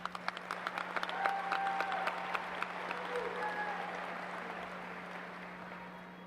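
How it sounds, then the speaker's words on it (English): A high school graduation crowd applauds color guard performers: broad, distant-sounding clapping from a large audience in a big hall, steady and fading gradually, with a constant low electrical hum beneath it. "Can we get a round of applause for all these accomplished performers?"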